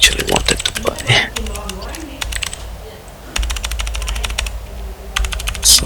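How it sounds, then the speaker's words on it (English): Fingers type on a mechanical keyboard with clicky Cherry MX blue switches and Vortex SA-profile keycaps, giving crisp, fairly close clacks in uneven bursts with a short lull in the middle. "So it has the Cherry MX blue switches."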